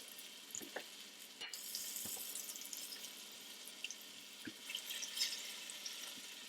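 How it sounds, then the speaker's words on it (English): Breaded catfish frying in a frying pan, a faint, steady sizzle with occasional soft pops and crackles, heard alone without talk. "Stick that into our frying pan"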